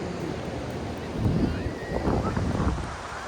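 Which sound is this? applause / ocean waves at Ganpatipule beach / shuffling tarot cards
ocean waves at Ganpatipule beach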